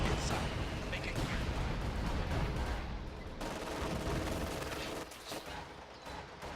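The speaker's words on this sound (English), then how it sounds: "And somehow machine guns are still shooting at us." Heavy machine gun fire in a Company of Heroes 2 multiplayer battle, a dense continuous rattle and roar of automatic fire with explosions mixed in, loud throughout and easing slightly toward the end, with voices calling out over it.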